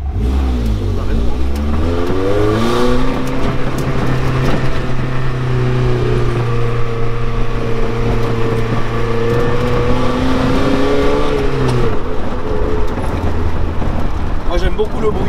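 A sports car engine, in a setting with a Renault Spider, a Lotus and a BMW M4, revs and holds a steady loud drone with rising and falling pitch, while voices talk over it.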